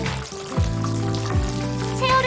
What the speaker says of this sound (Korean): 튀겨놓았던 새우를 한 번 더 튀기고